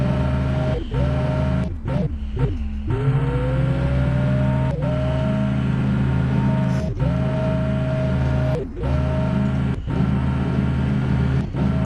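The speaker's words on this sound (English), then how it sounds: "My car is drifting." In the Chicken Gun video game, a car's engine drones steadily while its pitch slides upward as it drifts, broken by several short sharp dips and cuts throughout.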